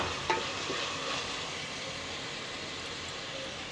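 Chicken curry with garam masala powder simmers and sizzles steadily in a pan, a continuous soft frying hiss with a faint scrape near the start, no voices.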